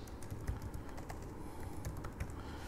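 Quick, irregular clicks of a computer keyboard as a folder name is typed, close and crisp with small pauses between bursts of keystrokes.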